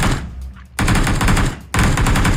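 Automatic gunfire rips out in PUBG Mobile played on an iPhone 7, two loud, close bursts of rapid shots split by a brief gap.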